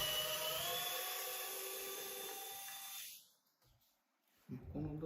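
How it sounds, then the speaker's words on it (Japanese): A Vessel cordless rechargeable electric screwdriver runs with a steady high whine for about three seconds, then stops; a brief clatter of handling follows near the end. "ベッセルの充電式のドライバーです。"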